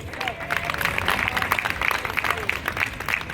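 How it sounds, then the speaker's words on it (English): Audience applause at a Trinidad and Tobago Independence Day flag raising ceremony, a steady dense wash of many hands clapping at moderate loudness, with crowd noise and voices mixed in. "Let me hear a round of applause."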